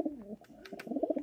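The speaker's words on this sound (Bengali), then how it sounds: "এই মুসলদম একটু দামি কবুতর" Domestic pigeons cooing softly in a coop, a few low throaty coos with brief pauses between them, heard up close with no talking over them.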